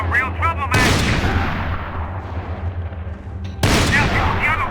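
Loud gunfire blasts from Max Payne 3, two heavy bursts that each decay into a long ringing tail, with a voice shouting briefly before each one.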